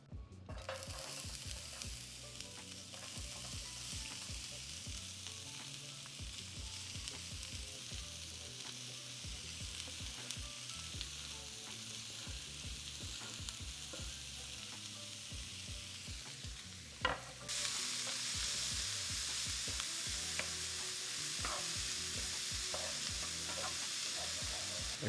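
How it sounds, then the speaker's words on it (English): Vegetables sautéing in a skillet for steak nachos: a steady, close, crackling sizzle with scraping stirs, briefly interrupted by a clank before the frying grows louder and hisses on. "I'm going to add my vegetables to the pan, saute those up a little bit"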